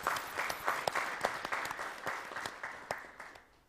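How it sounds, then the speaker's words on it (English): A crowd claps steadily at an annual conference and awards ceremony, a dense patter of many hands with a few sharper claps standing out, gradually fading toward the end. "So can we please give them a round of applause?"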